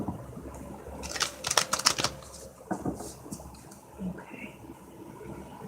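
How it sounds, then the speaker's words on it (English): Tarot cards being shuffled by hand, a close, papery riffling burst of rapid flicks lasting about a second, followed by a few softer taps and slides as the deck settles. "One more shuffle."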